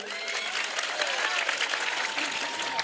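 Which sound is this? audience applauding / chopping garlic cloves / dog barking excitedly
audience applauding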